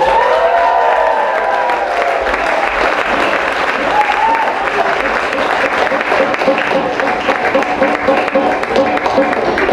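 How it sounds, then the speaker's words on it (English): An audience claps steadily at a sumo ring-entering ceremony, a loud, dense wash of applause from a large crowd that holds throughout with slight swells. "Please applaud."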